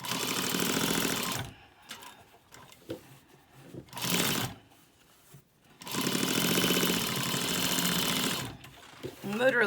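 A sewing machine stitches fabric with elastic in bursts of rapid mechanical chatter, loud and close, broken by pauses with quieter handling noise.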